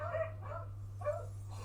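Small puppies yapping indoors, a few short high barks and yips in two quick bursts, fairly faint over a steady electrical hum.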